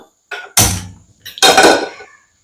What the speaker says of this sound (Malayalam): ചട്ടി എളുപ്പത്തേക്ക് വെക്കാം